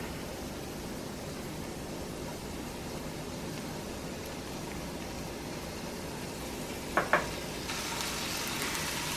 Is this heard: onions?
yes